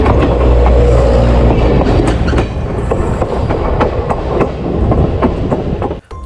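A train runs along the rails, loud and close, with a steady rumble and rhythmic clickety-clack of the wheels throughout.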